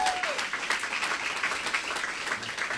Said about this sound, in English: Yes, that's worth an applause.